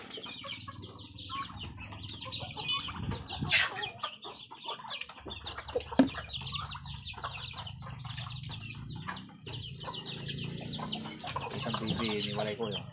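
Texas gamefowl chickens clucking and squawking while being fed, with scattered calls, a wing flap and busy movement close by, over a steady low background rumble.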